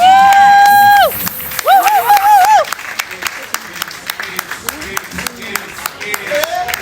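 An audience at a book launch event in Shanghai breaks into clapping, dense applause with crowd noise building after a few seconds of music-like tones and voices up front.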